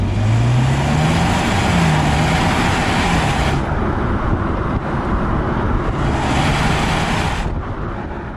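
Alfa Romeo Giulia Veloce pulling hard under acceleration, a loud sustained engine drone that rises in pitch, eases, then climbs again, mixed with heavy wind and road roar.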